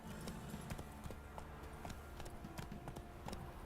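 Roach the horse's hooves trotting in The Witcher 3, a steady, close clip-clop rhythm of hoofbeats over a constant low background.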